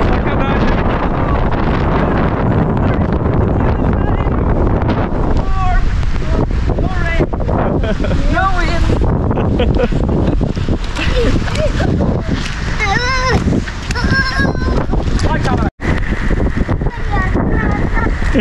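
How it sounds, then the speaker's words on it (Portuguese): Heavy wind buffets the microphone during rain outdoors, a loud continuous rumbling roar with gusty surges, while people talk over it most of the time. "Nem sei se vai dar pra escutar com esse barulho do vento."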